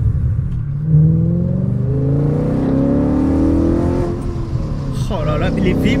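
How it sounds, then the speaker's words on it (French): Stage 1 tuned Audi RS4 B7 with its naturally aspirated V8 revs up and holds a deep, rising engine note, loud and close, with a voice talking over it. "Oh là là, les V8 Atmos de chez Audi"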